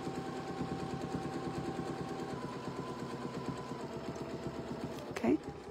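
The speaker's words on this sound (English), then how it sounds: "So I'm sewing to the chalk line each time." A sewing machine stitches a quilt along a chalk line, a soft, steady rapid whir with a fast mechanical pulse running throughout, followed by a brief louder clunk near the end.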